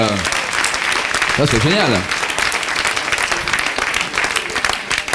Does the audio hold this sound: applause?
yes